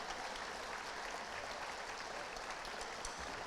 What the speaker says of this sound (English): Counselors, teachers, let's give them a round of applause.